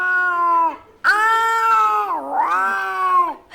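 A cat gives loud, drawn-out meows and caterwauls, two long wavering cries close to the ear with a brief gap between them, rising and bending in pitch.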